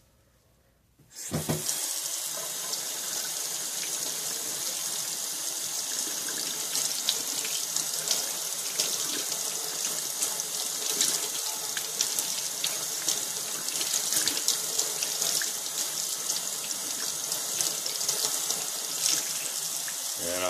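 A tap gushes water over chrome-stripped metal parts being rinsed, starting abruptly after a second of quiet and then running steadily and close, with splashing and occasional clinks.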